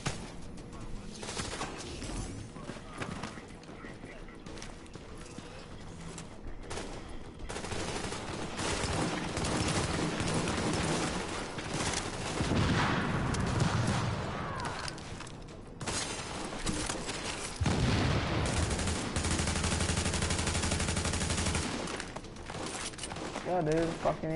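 Sustained bursts of automatic gunfire and scattered shots from the video game The Division, running steadily throughout with heavier clusters midway, while players talk over the fighting.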